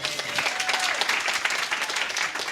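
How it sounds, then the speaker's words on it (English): Steady applause from a church congregation at a Sunday service, dense clapping throughout at an even level, with a faint voice briefly audible underneath. "Let's give her a round of applause."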